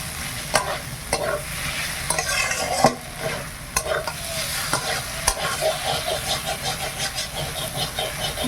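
Snake gourd frying with ground spice paste in a wok over low heat, a steady close sizzle broken by repeated scraping stirs and sharp clicks of the spatula against the pan.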